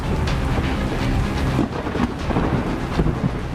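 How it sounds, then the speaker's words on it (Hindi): Heavy rain pours steadily throughout during severe flooding in Gujarat, India, with deep rolling thunder rumbling underneath, loud and continuous with no voices. "गुजरात में भारी बारिश से हाहाकार मचा हुआ है।"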